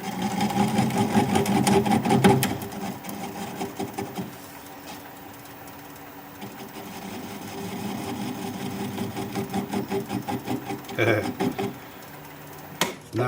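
A wood lathe turns a bowl at about 300 RPM while a swept-back bowl gouge is in use. A steady low motor hum with a faint whine runs throughout, rising and dipping slightly, with occasional light knocks.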